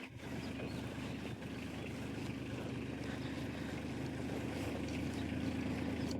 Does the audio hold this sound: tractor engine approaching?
yes